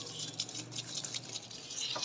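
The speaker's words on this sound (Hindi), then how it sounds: "ये पानी डाल देते हैं इसके अंदर हम" Water pours into a container of soaking bread, leaving a steady splashing, trickling wash with small drips, close by and alone.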